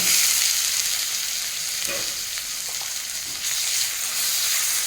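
Small cut pieces of chicken fry and sizzle in a pan for capsicum chicken. A loud, continuous hiss carries throughout, with soft scraping from stirring in the middle.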